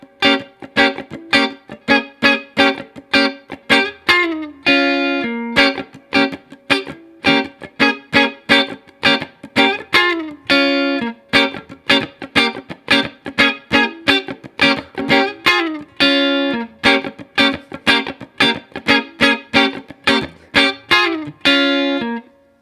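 Funk guitar rhythm in a wah tone that joins the start of part A to the ending of part B, with tight choppy strums pulsing fast and evenly, loud and upfront with no talking.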